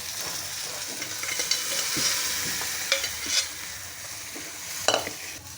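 Cooked black beans (pavta) go into a hot pan with Kolhapuri chutney and sizzle and fry steadily, with stirring scrapes and a few sharp clinks of a utensil on the pan close by.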